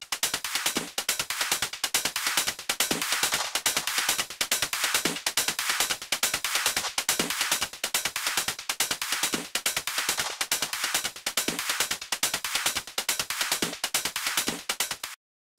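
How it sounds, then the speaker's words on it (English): A drum loop run through a compressor with a lengthened attack time, giving loud, dense, steady repeating hits with sharp transients and a regular kick pulse about twice a second, continuous and alone. "you can hear how the transient information of the drum loop is maintained and the overall compression is reduced"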